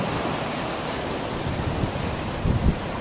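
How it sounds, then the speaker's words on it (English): Ocean surf along the Cuban coast, a steady broadband wash of breaking waves with wind rumbling over the microphone, continuous and fairly loud, with no voices. "Here's the ocean."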